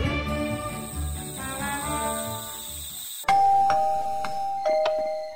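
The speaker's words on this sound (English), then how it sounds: "Oh, that's the doorbell." Doorbell in the Minecraft video game rings with a clear two-tone ding-dong chime struck several times after some background music ends abruptly.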